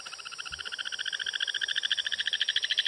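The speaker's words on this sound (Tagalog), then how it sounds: "may narinig kaming huni ng palaka." Frogs calling at night in a Palawan forest, a rapid pulsing chorus of bright repeated notes that grows steadily louder, with faint insects beneath and no voices.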